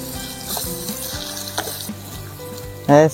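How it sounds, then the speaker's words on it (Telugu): Onions and green chillies fry in a pan for chicken curry at a night campsite in Lambasingi, a steady sizzle under light stirring, ending in a short loud tonal burst. "ఉల్లిపాయలు మిరకాయలు బాగా అయితే వేగిపోయాయి"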